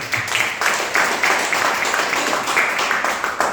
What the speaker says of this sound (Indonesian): Tepuk tangan dong buat Prudential